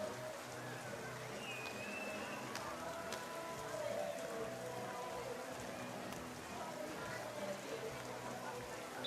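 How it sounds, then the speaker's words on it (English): Heavy rain pouring steadily onto an outdoor beach volleyball court, a constant wash of hiss under a faint crowd and occasional announcer talk. "It's pouring with rain, the ball is soaking wet."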